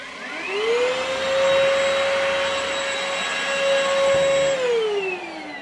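A Vytronix EBCV6 cordless vacuum cleaner on a 22-volt battery whirs up to a steady high motor whine, holds it for several seconds, then spins down, loud and close with no talking.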